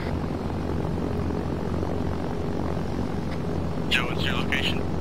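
A propeller airplane engine in a video game drones steadily at close range throughout, with a few brief higher chirps near the end.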